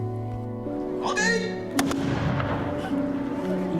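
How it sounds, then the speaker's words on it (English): Volley fire from samurai matchlock gunners in rotating lines, with a sharp crack and a rumbling echo over a steady background, and a voice speaking throughout. "Successive shooting is a rotation of fire by having lines of gunners, normally 3 lines of gunners, taking in turns to shoot and reload."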